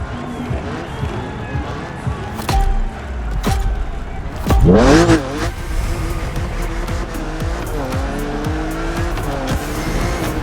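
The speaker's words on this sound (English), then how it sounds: "It's wonderful to see this car taking over the roads of Maui." A BMW Z4 driven on the roads of Maui in the racing game The Crew Motorfest, engine revving and shifting with a sharp tire squeal midway, loud and close, with a voice talking over it.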